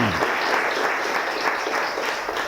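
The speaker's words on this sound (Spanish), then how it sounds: "Mis hermanos, démosle un aplauso al Señor." Church congregation applauding during a Spanish-language service, a steady, dense wash of hand clapping filling the room throughout, loud and continuous without a break.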